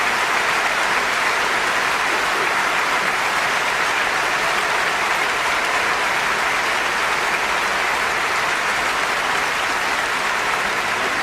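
Theater audience applauding after a performance from Les Misérables, a dense, loud, unbroken roar of clapping that holds steady throughout.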